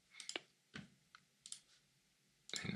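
Sharp mouse clicks from a computer used to model a Lego brick in Tinkercad, several separate taps spread unevenly across a few seconds, fairly close and alone with no talk.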